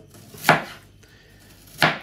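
A kitchen knife chopping onion and carrot on a cutting board for shtruli, two crisp, close, well-separated chops with quiet pauses between them.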